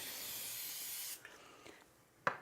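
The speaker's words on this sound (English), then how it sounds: "So we'll use our cooking spray." A steady hissing spray of cooking spray from an aerosol can into a pan lasting about a second, followed by quiet handling sounds and a single sharp clack.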